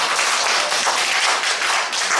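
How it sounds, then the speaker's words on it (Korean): A church congregation at a morning worship service claps together to bless a family, producing a steady, dense round of applause with no break. "우리 축복 박수 한번 하죠."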